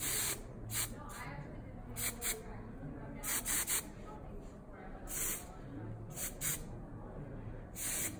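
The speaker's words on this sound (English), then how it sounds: "this is the Headstrong hairspray that I'm using" Short hissing bursts of Headstrong hairspray come in quick pairs and triples, close and sharp, separated by brief pauses, during crochet braid styling.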